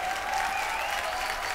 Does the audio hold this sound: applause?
yes